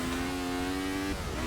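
A racing car engine in Forza Motorsport 6 holds a steady high whine with strong harmonic bands, then drops in pitch near the end as the revs fall.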